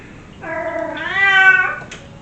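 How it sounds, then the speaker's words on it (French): A female cat in heat meows in one drawn-out, rising wail lasting over a second, fairly close and alone over a faint room hum. "Mon chat, il a fait des siennes là, elle a ses chaleurs donc."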